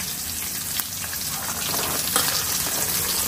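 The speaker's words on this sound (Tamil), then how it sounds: "சின்ன வெங்காயம் போட்டு நல்லா வதக்கிக்கணும்" Small onions sautéing in a pan for a country-chicken curry, a steady close frying sizzle with occasional stirring scrapes throughout, no one talking.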